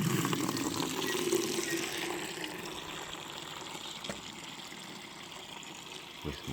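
Water gushing from a second-hand 225 rainwater tank fed by a carport collection system, a loud steady splashing rush that holds evenly throughout.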